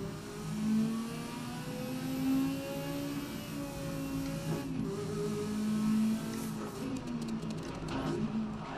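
A BMW M1 racing in the video game GRID during a classic touring car race, its engine droning and revving steadily at mid pitch, rising and falling through gear changes, with faint tire and track noise toward the end.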